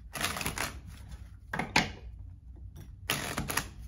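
Bursts of dense riffling clatter, like a deck of cards being shuffled, come in three separate runs with short quiet gaps between, close and fairly loud.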